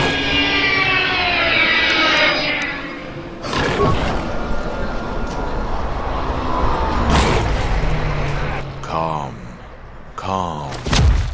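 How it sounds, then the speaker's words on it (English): An out-of-control bomber aircraft in the Star Wars game Knights of the Old Republic II, a loud roaring engine drone, broken by heavy thumps and slams, with voices talking over the noise. "The bomber is out of control!"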